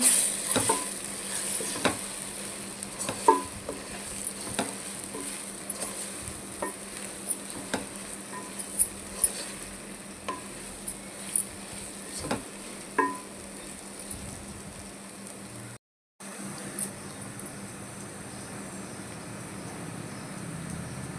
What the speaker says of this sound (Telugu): చూసారా మంచి ఫ్రై లాగా చేసి అయిపోతుంది మనకి